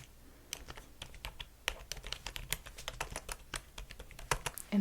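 Quick, irregular clacks of a computer keyboard being typed on in a quiet room, close and crisp, running steadily throughout with short pauses between bursts of keystrokes.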